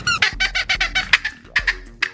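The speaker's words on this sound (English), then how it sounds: "that's a squirrel call" A squirrel call is squeaked in a series of about a dozen sharp, high chirping squeaks in quick, uneven bursts, up close and loud with no talking over it.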